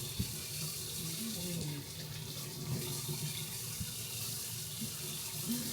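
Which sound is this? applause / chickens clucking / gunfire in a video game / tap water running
tap water running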